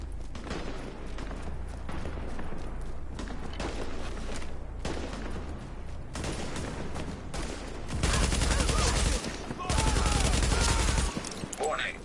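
Video game gunfire on PS4: rapid automatic bursts and fusillades, loud and close, coming in repeated clusters with brief gaps and heavier volleys near the end, while a computer voice issues warnings.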